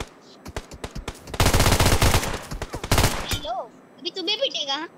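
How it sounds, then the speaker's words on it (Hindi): Gunfire in BGMI: a few sharp single shots, then two loud sustained automatic bursts close by, followed by quieter chirping game effects. "मैं बॉट फायर नहीं कर रहा, मैं एक बंदे को देखा था उसके आ गया फायर"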